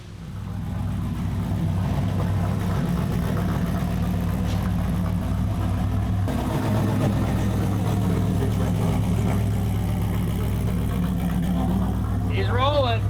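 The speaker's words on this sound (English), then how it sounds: "I want you to just take it for a quick drive around the corner" A car being driven off after a hub dyno test, its engine humming steadily at a low, even pitch throughout with a brief rise near the end, with voices talking over it.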